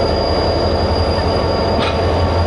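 A four-coach passenger train pulls slowly away from a station platform in Nawabshah, Pakistan, giving a continuous loud rumble of wheels and carriages with a faint squeal, and no voices.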